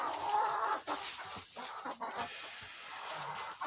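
Pushkin breed chickens and roosters in a poultry house give steady close clucking and murmuring, with a constant bright hiss of ambient noise underneath.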